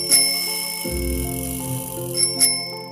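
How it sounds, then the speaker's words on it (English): A bicycle bell rings twice, bright metallic dings at the start and near the end, loud and close, with a playful synthesized tone in between and no voices. "Bicycle."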